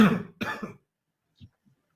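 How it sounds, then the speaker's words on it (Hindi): Two quick, harsh coughs close up, followed by a pause and a couple of faint, soft throat sounds. "मुझे खांसी आ रही है"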